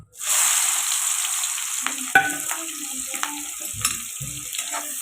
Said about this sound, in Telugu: అదే ఆయిల్లోని ఆనియన్స్ వేసుకుందాం